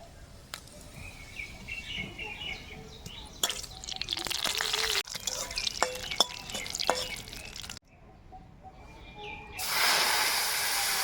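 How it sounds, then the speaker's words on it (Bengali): Dried red chilli, nigella seeds and bay leaf crackle and hiss in hot oil in a kadai for lentil dal, a steady close sizzle with sharp pops that swells into a louder burst of frying near the end. "কড়াই তেল দিয়ে দিয়েছি, ফোড়নে দেব শুকনো লঙ্কা,"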